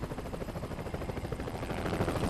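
Helicopter in the video game Spider-Man 2, a steady dense rotor drone with a rapid choppy pulse that fills the whole clip at constant loudness, with no talk over it.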